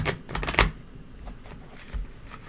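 Quick riffling bursts of tarot cards being shuffled, a dense flurry near the start followed by a few lighter riffles, close and fairly quiet.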